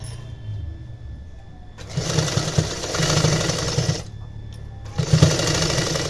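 Folded blouse fabric is stitched on a sewing machine in two close, loud bursts of steady running, separated by a quiet pause with a low hum.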